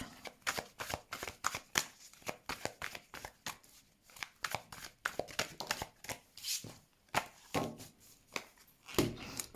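Tarot cards are shuffled by hand in rapid, crisp riffling bursts and flicks, close and dry, repeating irregularly throughout with no talk over them.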